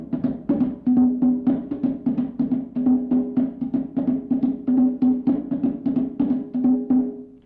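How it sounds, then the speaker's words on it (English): West African pentoma drum played in a steady, driving rhythm of repeated hand strokes with a resonant low tone, close and loud with no voices. "The pentomas sound very much like the conga drums of South America."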